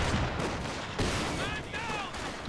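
Incoming strike during a 3v3 Company of Heroes 2 match on the Port of Hamburg map, heard as a loud rumbling barrage of explosions and gunfire with a few whistling tones over the din.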